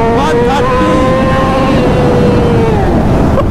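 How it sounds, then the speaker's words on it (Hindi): A modified Yamaha R15 with a 600cc engine pulls hard in first gear in heavy traffic, its loud, close exhaust note climbing steadily in pitch before easing off near the end. "पहले गियर में खींचोगे देखो कितना जाएगी"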